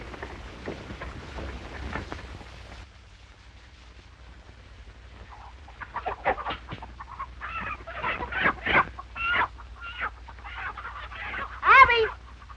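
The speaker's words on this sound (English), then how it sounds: "Help me find that rooster." Chickens and a rooster cluck and squawk in a farmyard, several bursts growing busier toward the end with one louder crow-like call, mixed with faint background voices.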